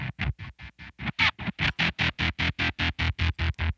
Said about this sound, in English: there's two different tremolos gating the front and the back of the distortion sound